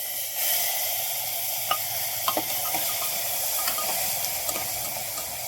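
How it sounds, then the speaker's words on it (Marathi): Masala frying with fresh curry leaves in a pan for stuffed brinjal, a steady close sizzle with a few crackles and pops, no talking. "आता हा जो मसाला आपण काढला तो टाकून घेऊ"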